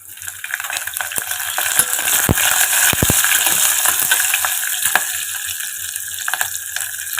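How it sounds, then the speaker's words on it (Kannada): Green chilies frying in ghee over a low flame with kasuri methi for ghee rice, a steady soft sizzle running throughout, broken by a few sharp clicks and light stirring scrapes of a utensil in the pan. "ಇದೆಲ್ಲ ಸಣ್ಣ ಉರಿಯಲ್ಲೇ ಫ್ರೈ ಮಾಡ್ಕೊಳ್ಳೋಣ"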